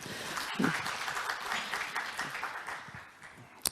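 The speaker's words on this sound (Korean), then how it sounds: "박수로 환영해 주시기 바랍니다" Audience applause welcoming a researcher from the Software Policy Research Institute onto the stage at an ICT industry outlook conference, a steady wash of clapping that tapers off toward the end.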